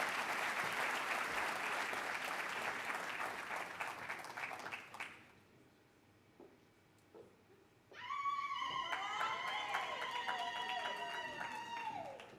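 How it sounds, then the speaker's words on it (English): Warm audience applause at a formal Africa Day lecture in South Africa as a university principal walks to the stage, steady crowd clapping for about five seconds that tapers off before she begins speaking. "Let's give her a warm round of applause as she comes to stage."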